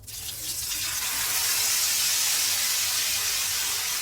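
Mutton adai batter and oil hit a hot dosa griddle, giving a steady, close hiss of sizzling that rises quickly and holds evenly throughout, with no talk.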